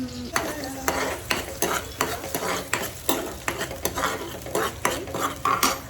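Tomato puree stirred and heated in oil in a pan for a quick lunch, giving a steady run of scraping, clinking spoon strokes against the metal over a soft background sizzle, close and alone with no talk.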